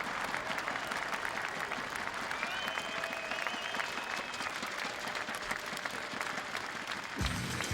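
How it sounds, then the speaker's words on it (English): A large crowd applauds steadily at Miller Park during a professional golf tournament, a dense, continuous wash of clapping that stays loud throughout with no voices standing out. "Big crowd here at Miller Park."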